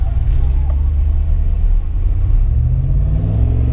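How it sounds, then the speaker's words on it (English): Jeep Wrangler JK fitted with an LT1 V8 engine accelerating from low speed, a loud, close, deep rumbling engine note that climbs steadily in pitch as the revs rise. "let me give it gas and let's get going here"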